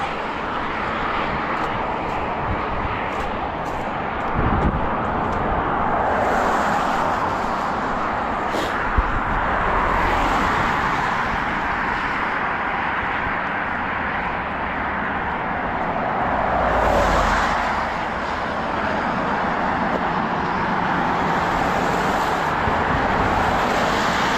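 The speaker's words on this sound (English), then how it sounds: "I know the traffic here is kind of loud." Loud, steady roadway traffic roars past continuously on a roadside walking route, with swells as vehicles pass close by and an aircraft-like drone blended in.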